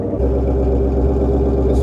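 SN95 Ford Mustang being sized up as a budget drift car, its engine running at a steady, loud, close idle with a low rumbling pulse throughout.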